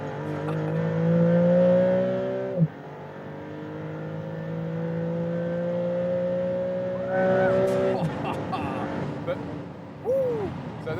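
Maserati MC Pura on the autobahn, its engine note climbing through long accelerating pulls with gear changes between them, heard from inside the car under a driver speaking.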